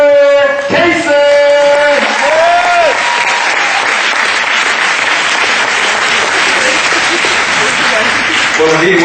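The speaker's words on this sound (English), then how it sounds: "So I want to give a warm round of applause, an inspiring welcome to my friend, my colleague, my fraternity brother, Mr. Wil Cason." An audience at a summer graduation ceremony breaks into sustained, loud applause welcoming a speaker, the clapping swelling after a brief voice at the start and continuing steadily for several seconds.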